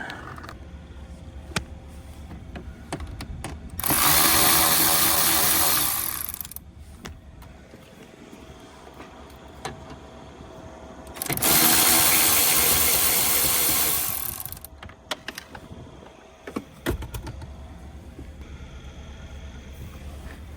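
Screws being driven out of the instrument cluster trim in a Ford F150 Lariat cab, heard as two loud, sustained whirring bursts a few seconds long, separated by quieter handling noises and light clicks.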